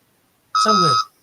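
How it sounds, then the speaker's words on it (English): A mobile phone gives a single short notification beep indoors during a live stream. The bright electronic tone lasts about half a second and stands out loud against near silence. "that's my phone"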